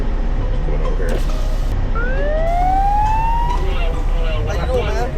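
A police car siren wails through, its rising sweep clearly audible over steady traffic and background bustle, with faint voices around.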